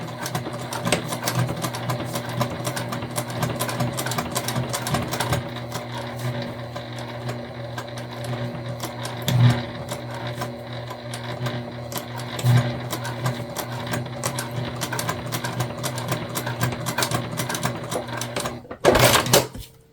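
A sewing machine runs steadily and continuously while stitching a small hip bag, a close mechanical whir with a few louder clunks, ending in a brief sharp burst.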